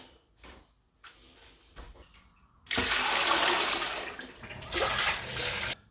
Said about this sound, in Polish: Wszystko zalewamy zimną wodą.